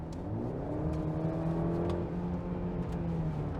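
A 2024 Mercedes-Benz GLC engine revs and then hangs at a steady high RPM after the throttle is released. It gives a continuous, loud tonal drone that holds through the clip, with no talk over it.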